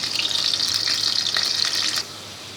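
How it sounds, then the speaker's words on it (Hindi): Pieces of potato frying in hot oil until golden, a loud, steady, close crackling sizzle that stops abruptly near the end, with no voices. "इनको हम फ्राई कर लेंगे गोल्डन"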